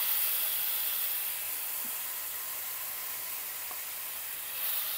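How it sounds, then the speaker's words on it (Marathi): Strawberries frying in ghee in a hot kadhai give a steady, close sizzling hiss that holds evenly throughout, with faint stirring clicks and no talking. "दोन्ही स्ट्रॉबेरी आपण यामध्ये घातलेल्या आहेत। परतून घ्यायचं आहे चांगलं।"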